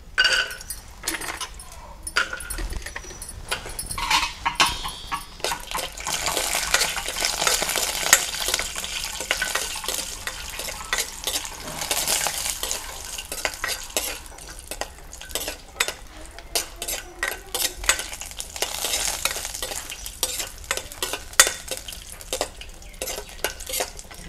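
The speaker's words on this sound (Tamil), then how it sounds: "நெய் காஞ்சிட்டு முந்திரி சொல்லியை போட்டோம்" Cashew nuts frying in hot ghee while being stirred, busy crackling sizzle with repeated scraping and clinking of a spoon against the pan, fairly close and continuous, no talk over it.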